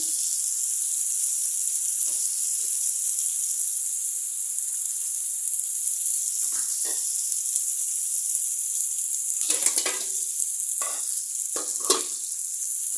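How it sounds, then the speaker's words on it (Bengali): Fish frying in oil on a stove for a taro-root fish dish, a steady bright sizzle throughout with occasional louder crackles and scrapes, no talk. "মাছটা ভাজা হয়ে গেছে।"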